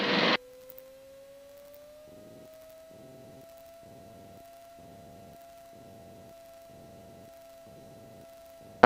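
A small aircraft engine holds a steady run-up at 4,000 RPM during a flight lesson, a continuous drone with a slowly rising pitch and a faint pulsing throb, brief loud bursts at the start and end.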